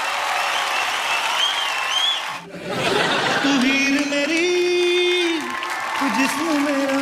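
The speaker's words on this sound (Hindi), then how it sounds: "माधुरी दीक्षित जी के लिए जोरदार तालियां।" A crowd gives loud, sustained applause for Bollywood actress Madhuri Dixit, steady clapping and cheering that dips briefly midway, with tonal sounds and voices mixed in.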